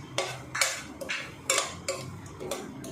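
Semolina roasting with cashews, raisins and almonds in a pan over a low gas flame, stirred with a spoon that scrapes and clinks against the metal in repeated close strokes.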